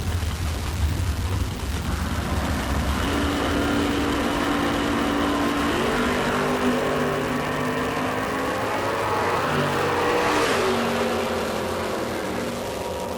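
A Chevy Vega and a 1982 Mustang ragtop launch side by side at a drag race, engines rising from a rumble into climbing, overlapping revs that build steadily and peak near the end, loud and close.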